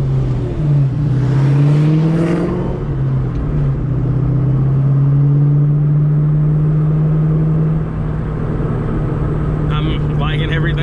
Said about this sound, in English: Car's driving pretty good.